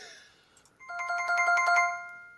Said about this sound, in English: that's the sound of being correct.